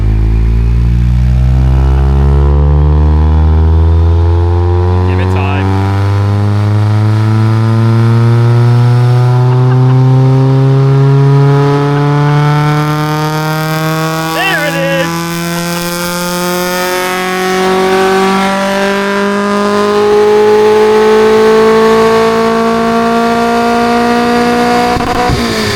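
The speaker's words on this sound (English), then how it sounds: "For an eBay exhaust, I think that it's still got the cat, so I think that's why it sounds good." A car engine on a dyno fitted with an eBay exhaust that still has its catalytic converter revs at wide open throttle, a loud, steadily climbing roar that rises in pitch over a long single pull, with no talking.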